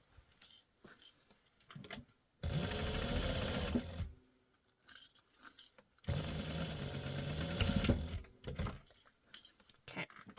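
A sewing machine stitches a fabric bowl cozy in two long, steady runs of several seconds each, with short pauses and light handling noises between them and no talking.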